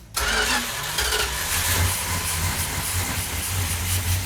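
A classic car engine is cranked and catches, settling into a loud, close, rough idle with a steady uneven rumble throughout and no talk.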